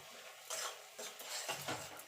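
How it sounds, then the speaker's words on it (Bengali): A spice paste, cooking for a drumstick and potato vegetable curry, is stirred and sautéed in oil in a pan, with rhythmic scraping strokes of a spatula over a faint sizzle, quiet and close. "এবার মশলাটাকে কষিয়ে নেব।"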